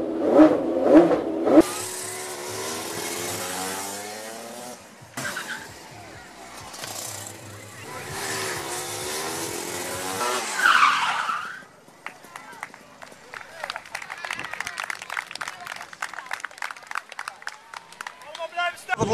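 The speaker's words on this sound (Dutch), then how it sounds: "laten we iedereen een beetje meeproeven wat het is om een Formule 1 niet alleen van dichtbij te zien, maar ook te horen" A Formula 1 car at a sports fair demonstration revs hard and loud, with rising, roaring bursts and a rapid crackling idle toward the end, while people talk over parts of it.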